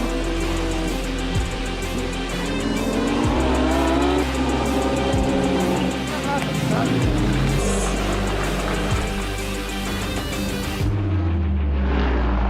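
Lamborghini race cars battling in an endurance race at the Red Bull Ring, engines screaming close by in a dense, rising and falling roar with gear-shift drops, a commentator talking over it, the noise cutting off sharply near the end.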